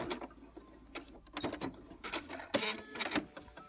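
A sewing machine backstitching at the end of a seam on a kimono belt, a close, fast mechanical chatter of needle strokes running in short bursts, alone without talking.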